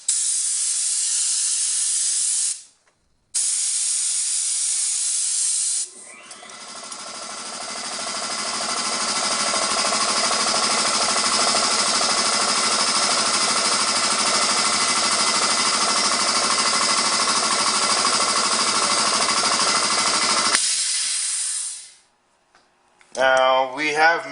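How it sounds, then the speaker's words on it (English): Air compressor running loud and steady as it refills to maximum pressure, a dense mechanical hiss and rattle lasting about fifteen seconds before cutting off, preceded by a shorter burst of hissing air. "Now I'm going to fire up the compressor back to max pressure."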